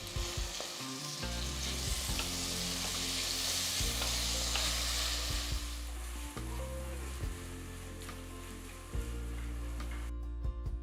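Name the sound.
ginger garlic paste frying in a pan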